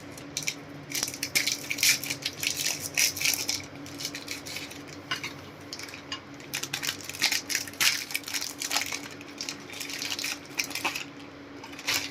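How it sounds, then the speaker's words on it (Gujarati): Oreo biscuits are snapped into pieces, probably dropping into a mixer jar, making a continuous run of crisp cracks, crunches and small clattering taps close by, with no talk. "તો પહેલાં આપણે આ બિસ્કિટના ટુકડા કરી લેશું."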